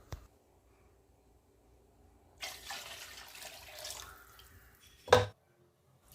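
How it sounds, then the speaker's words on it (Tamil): Water poured from a cup into a cooking pot for chicken biryani, a short splashing stream lasting about two seconds, then a brief louder splash as more is tipped in. "அரிசி அளந்த கப்லேயே 2 கப் தண்ணி சேர்த்துக்கிறேங்க"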